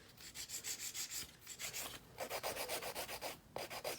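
Rapid rhythmic rasping of a nail file shaping and filing long gel nails, close and steady, with strokes in quick even bursts throughout and no talking.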